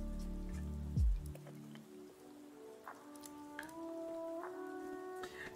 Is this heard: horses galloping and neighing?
no